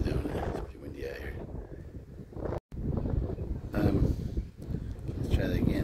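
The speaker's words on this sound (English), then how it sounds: "The wind actually is doing it. It's pretty windy out here." Steady wind buffets the microphone in gusty rumbles, with people talking over it nearby.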